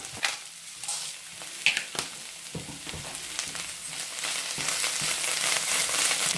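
Spinach sautéing in a hot pan after a small pinch of salt and black pepper, a steady close sizzle with occasional sharp clicks and scrapes that build into a denser hiss toward the end.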